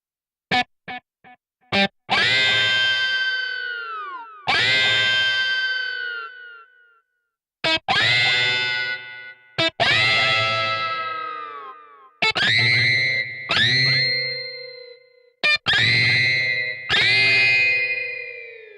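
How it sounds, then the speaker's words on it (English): Virtual guitar with heavy distortion effect playing sustained harmonics: a few short plucks then a series of loud, ringing notes that hold and fade, separated by brief gaps, alone without talk. "turn up the distortion knob on your guitar effects"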